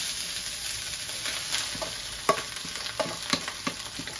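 Garlic rice frying in a pan, a steady, quiet sizzle with occasional spatula scrapes and clinks as it is stirred, heard alone without talk.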